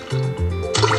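A fish dropped into the ocean in a mobile ocean app makes a bright watery splash near the end, over a steady tonal backdrop of soft music.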